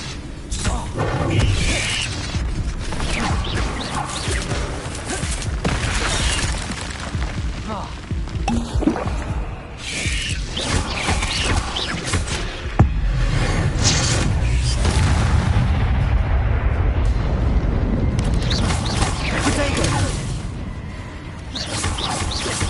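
An Incendio fire spell cast during combat with a giant spider in the Hogwarts Legacy video game on PS5, a series of loud booming bursts and whooshes, with a voice speaking over the action.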